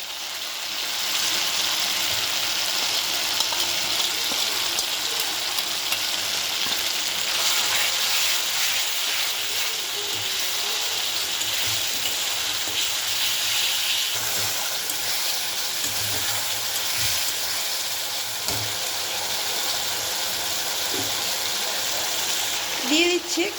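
Spice paste for a raw banana kofta curry sizzles steadily in the pan while being sautéed, a loud, continuous hiss that holds for the whole stretch with only slight variation.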